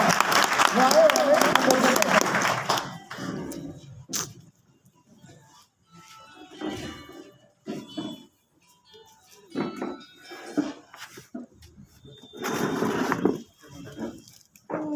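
A burst of applause at a local BJP party meeting in Bhadra lasts about three seconds, then someone speaks into a microphone with pauses between phrases.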